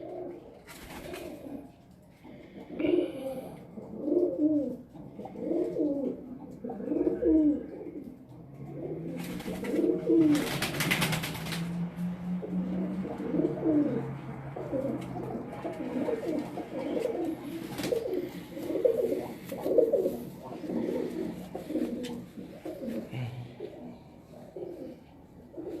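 Pigeons on a rooftop coo steadily in close, rhythmic repeated phrases, with a brief rustle partway through.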